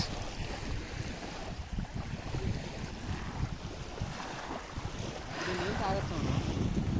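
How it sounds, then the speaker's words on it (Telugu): Waves wash along the shore of Pangong Lake, a steady rushing wash buried under heavy wind buffeting the microphone, with faint voices now and then. "అలలు వచ్చేస్తున్నాయి గైస్."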